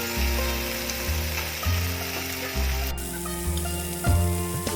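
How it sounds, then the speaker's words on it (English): Steady sizzling of sardine fillets frying in a pan, with a low bubbling crackle and occasional stirring or scraping bumps, close and continuous. "You can see it's nicely sizzling."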